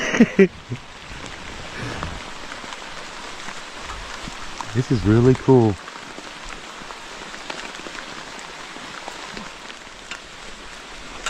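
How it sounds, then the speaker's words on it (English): Steady rain patters on a tent at a riverbank campsite in a constant hiss, heard from inside, with someone speaking briefly at the start and again in the middle. "Just kind of hanging out here in the tent and looking out the little slit and watching the rain."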